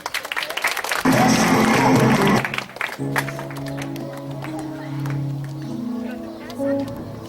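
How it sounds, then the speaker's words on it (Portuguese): Guests at a school mock country wedding put on by seventh-grade classes break into loud, dense clapping as the bride arrives. After about two seconds it cuts off, giving way to music and voices. "Vamos bater palmas."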